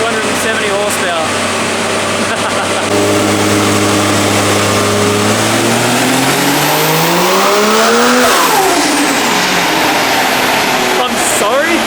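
A turbocharged Barra engine in a ute roars under load on a dyno at 19 pounds of boost, a loud continuous pull with rising pitch that sweeps up near the end, then drops off as the pass finishes.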